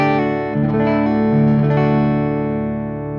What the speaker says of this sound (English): here is the sound of the guitar going through the pedal in bypass mode.